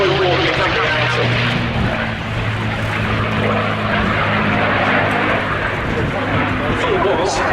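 P-51 Mustang propeller plane flying at the Duxford Air Festival, its engine a steady droning rumble with a low tonal hum that holds throughout, heard under a continuous voice talking.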